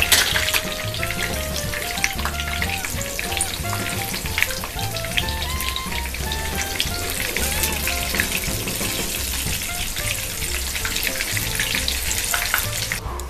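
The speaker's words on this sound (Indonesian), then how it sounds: "bawang putih, kemudian tomat, dan juga terasi. Goreng sampai setengah matang." Garlic, tomato and shrimp paste fry in hot oil for tempeh sambal, giving a steady loud sizzle with crackling pops and occasional stirring scrapes. No talking, and light background music sits underneath.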